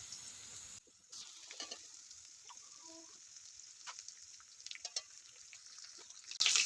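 Chopped tomato goes into golden-brown fried onions in a pan, bringing a faint steady sizzle with light stirring clicks and a sharper burst of frying at the very end.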